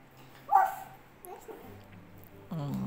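A human voice imitates a dog with one short, sharp yap-like bark, followed by quieter sounds and then a brief stretch of ordinary talk.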